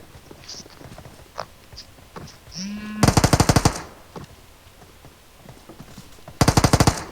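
Automatic gunfire in an online shooter game rips out in two loud bursts of rapid shots, preceded by quieter in-game footsteps, clicks and a short rising tone; no talk over it.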